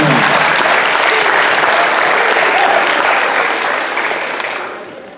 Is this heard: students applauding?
yes